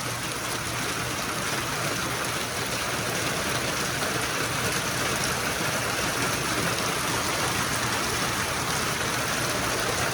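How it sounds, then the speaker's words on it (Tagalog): Steady rain falls outdoors as a dense, continuous hiss that stays loud and even for ten seconds, with no voices. "Maulan ang panahon."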